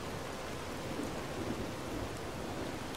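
Rain falls steadily in the fantasy role-playing video game Enderal, a dense, constant hiss of heavy rainfall with a low rumbling undertone, even and unbroken, with no voices.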